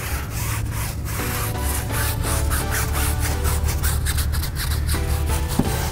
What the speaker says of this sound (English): spray the cleaner directly into the brush, then agitate it all out